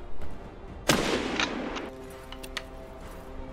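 Gunshots are fired through a door in Mount and Blade 2: Bannerlord, with one sharp, loud crack near the one-second mark followed by a quick, fainter report and ringing decay.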